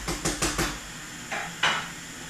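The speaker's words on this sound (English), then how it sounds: "Let's flip the naan over." Naan being flipped in a pan gives a quick run of four clattering metallic knocks, then two softer scrapes, close and fairly quiet with no talk.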